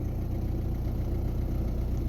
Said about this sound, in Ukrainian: Але вже двигун працює рівно.